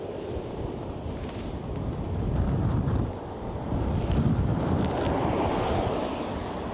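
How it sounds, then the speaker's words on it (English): Strong headwind roaring across a microphone outdoors near Malmö, Sweden, a constant, heavy buffeting rush that swells and dips slightly without pause. "Strong headwind."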